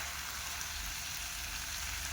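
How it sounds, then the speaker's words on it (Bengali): Potatoes fry in hot oil at a nighttime picnic in Haldia, giving a steady, dense sizzle that holds even and close for the whole stretch, with no talk over it. "আলু ভাজা হয়নি বে।"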